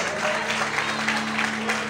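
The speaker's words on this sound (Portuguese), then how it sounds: "glorifique e aplauda o Senhor essa noite" Church congregation applauding the Lord during an evening service, a steady wash of many hands clapping together over a sustained organ or keyboard tone, fairly close and even in level throughout.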